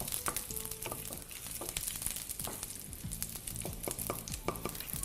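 Garlic dropped into a hot frying pan sizzles steadily with a dense, crackling hiss, broken by scattered clicks and scrapes of stirring throughout.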